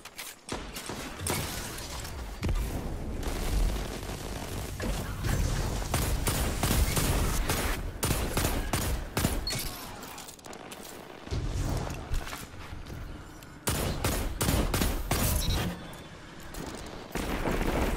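Video game gunfire in a zone-capture shooter match, a dense, continuous barrage of rapid shots with sharp bursts and brief lulls, loud and close throughout with no talk.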